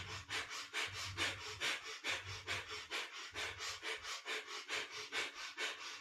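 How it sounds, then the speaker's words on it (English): Rapid, rhythmic breath of fire during a yoga plank pose: sharp, even panting exhalations repeating about three times per second, close and loud with no talking. "Nice breath of fire here in our plank pose."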